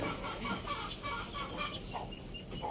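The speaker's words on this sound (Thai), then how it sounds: "อันนี้จะเป็นไก่ไข่" A flock of laying hens clucks continuously, overlapping murmurs and occasional sharper calls at moderate volume, with no talking.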